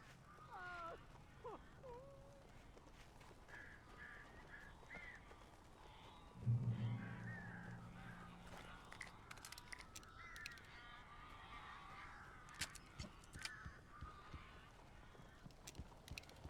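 Crows caw in the video game Alan Wake Remastered, harsh calls repeating faintly against a low ambient background with scattered footsteps and a brief low thud.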